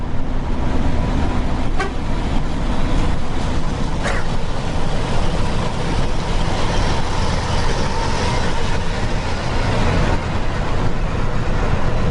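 A loud, steady rumble and road roar fill the cabin of a Harapan Jaya VIP class bus cruising at a speed limited to 90 km/h on the Pare Kediri to Jakarta route, with a couple of brief faint tones.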